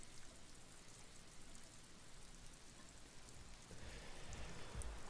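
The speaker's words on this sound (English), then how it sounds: "It's the thing with rain, you hear it before you see it" Continuous rainfall from the video game Disco Elysium, a close, even wash of drops striking surfaces that grows slightly heavier toward the end, with no talking.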